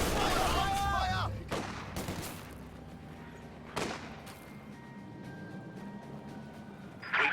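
Bursts of video game gunfire and heavy booming shots crack out in a loud opening volley, then scattered shots and rumbling battle noise continue more quietly under a distant mix of sounds.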